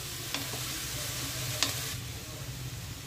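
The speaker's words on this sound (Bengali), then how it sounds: "হালকা করে ভেজে নিচ্ছি।" Chopped spring onion and mixed vegetables frying lightly in oil in a pan, giving a constant close sizzle with a couple of sharp utensil clicks against the pan and no voices.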